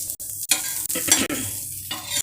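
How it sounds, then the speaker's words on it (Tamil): Dosa batter hits a hot iron dosa pan with a loud, close, continuous hiss, broken by a few brief gaps. "அப்புறம் நம்ம ஒரு தோசையை ஊற்றி அதையும் எடுத்து நம்ம போட்டுடலாம்"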